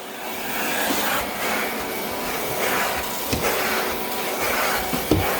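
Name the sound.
vacuuming a pine floor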